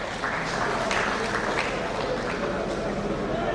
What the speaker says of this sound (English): Let me clap for him.